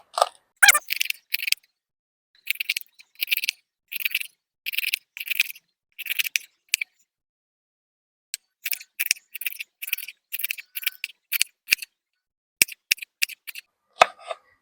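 Okra pods cut up on a board with a knife, making a run of crisp, quick clicking and snapping cuts in irregular bursts with short pauses, close and otherwise quiet.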